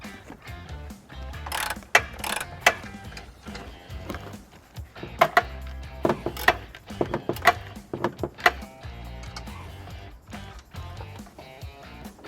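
Tools clatter and clank while bolts are removed from under a 2017 Hyundai Elantra GT during a trailer hitch installation, with sharp metallic knocks and ratcheting bursts at irregular intervals, fairly close and fairly quiet.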